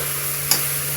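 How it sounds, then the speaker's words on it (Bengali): Fish coated in spice paste fries in a pan with a soft, continuous sizzle, and a single brief stirring scrape comes midway. "মশলাটা যেহেতু মেখে রেখেছি মাছের সাথে, তাই একটু ভালোভাবে ভেজে নিচ্ছি।"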